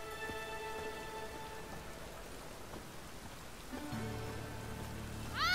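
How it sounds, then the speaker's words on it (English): Rain falls steadily in the video game The Witcher 3: Wild Hunt, a soft even patter at low level with faint background game tones and a brief rise near the end. "Snails come out after rain."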